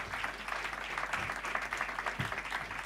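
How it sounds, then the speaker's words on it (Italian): An audience claps steadily, a dense patter of applause that continues evenly throughout, fairly close. "fatemi un applauso"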